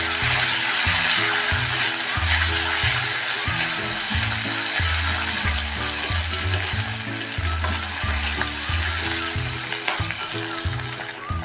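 Hand-crushed tomatoes with garlic sautéing in a pan for a moong dal and drumstick amti, giving a steady, close, loud sizzle under rhythmic stirring clinks throughout.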